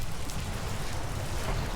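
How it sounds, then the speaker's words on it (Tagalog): Steady rain falls outdoors in a continuous soft hiss of drops on surfaces, even and unbroken, heard alone at a moderate distance. "It's raining."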